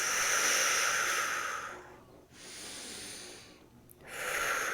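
Deep, slow breath work: long hissing inhales and exhales alternate in a steady rhythm, loud and close to the microphone, with short pauses between breaths and no talking.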